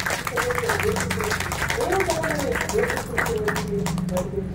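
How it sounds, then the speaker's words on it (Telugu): An audience at a gathering claps continuously in dense, rapid applause while a voice speaks over it. "అందరూ చప్పట్లు కొట్టి వారిని అభినందించారు"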